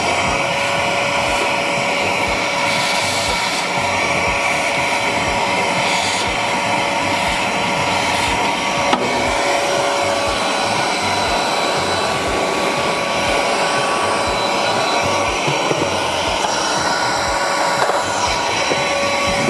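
Vacuum cleaner fitted with a crevice nozzle sucking ash from around the igniter element of a GMG Trek Prime pellet grill, a loud continuous whining roar with steady pitch and faint shifting rattles, no voices.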